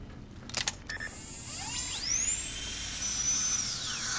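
Whining dental-drill-like surgical tool from an auto-doctor operation in the game Fallout: New Vegas, rising and sweeping in pitch for several seconds after a few short clicks, steady and fairly loud with no talking.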